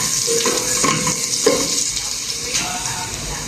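Garlic and onion frying in a pan, a bright continuous sizzle broken by a few clinks and stirring knocks, close and fairly loud with no talking.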